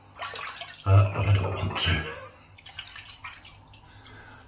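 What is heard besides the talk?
running water while shaving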